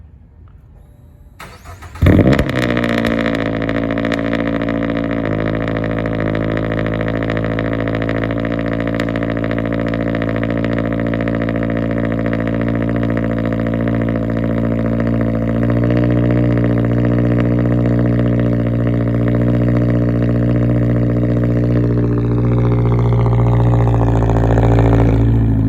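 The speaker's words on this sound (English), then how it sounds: "Able to get a cold start." A 2022 Toyota GR86 fitted with a Tomei 60R exhaust cold-starts inside a metal shop: a brief crank, then a sudden loud catch into a steady, droning high idle that holds for over twenty seconds.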